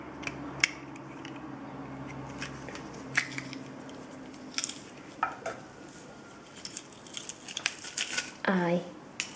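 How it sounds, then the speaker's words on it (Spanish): Garlic cloves squeezed through a garlic press while making a gourmet burger sauce, heard as scattered sharp clicks, squishes and light metallic scrapes at close range, faint, with talk in the background. "vamos a coger un machacador de ajo y vamos a partir los dientes de ajo"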